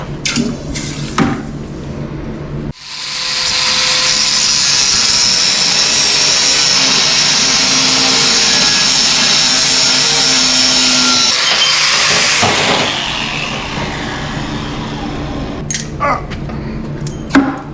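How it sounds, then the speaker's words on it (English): A power cutter slices off a part of a bracket during an OEM fuse box install for an LS swap, a loud continuous grinding whine running about nine seconds, then winding down, with brief clanks before and after. "I'm gonna cut it off with a cutter just so it's got a nice edge."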